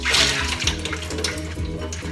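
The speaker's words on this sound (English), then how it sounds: "Now let's start by draining the water" Water pours and splashes steadily for a couple of seconds, a close, continuous rushing stream as soaking water is drained from a steamer pot into a sink.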